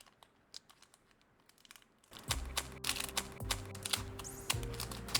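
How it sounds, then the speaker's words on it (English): Scissors snip the tops off Dragonstorm trading card packs, quiet sharp clicks at first, then louder crisp cuts mixed with crinkling foil wrappers, close up. "let's get to snipping the tops off of these."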